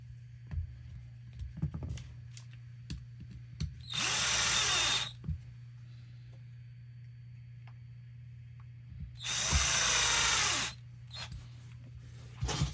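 Two bursts of a power drill driving 14 mm screws into the rear shock tower of a Losi 22S RC car with a mid-motor conversion, each lasting about a second, with small clicks and handling taps between them in a quiet workshop.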